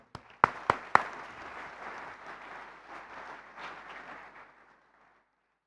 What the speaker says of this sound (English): let's give him a big round of applause, Stefan Kraus.